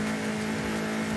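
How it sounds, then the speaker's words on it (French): A 2007 Honda Civic Type R with a VTEC engine, driven in Forza Horizon 5, holds a loud, close rev with a steady buzzing tone through a short burst, with no voices. "ce que j'ai toujours aimé par contre chez Honda, c'est le bruit de leur moteur"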